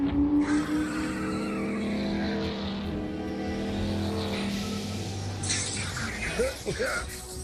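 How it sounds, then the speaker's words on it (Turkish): In an animated scene, a car engine revs and races while tires skid and squeal. The sound is loud and continuous and mixes with other effects. "Bu motorun sesini nerede duysam tanırım."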